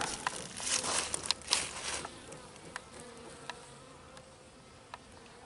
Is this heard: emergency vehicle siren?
no